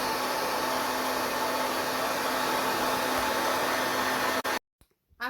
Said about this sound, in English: and blow dry it.